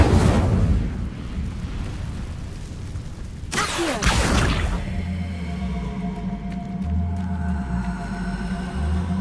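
A magical Incendio fire spell effect gives a continuous loud, roaring rush with a sharp whooshing burst midway, then settles into a deep, droning rumble.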